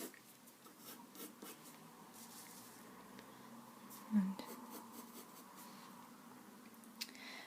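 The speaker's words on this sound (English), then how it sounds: "Just sketch it out with a very light pencil so that it can easily rub away when you outline it." A light pencil sketches on paper in soft, faint scratching strokes, with one brief louder scrape partway through, in a quiet room.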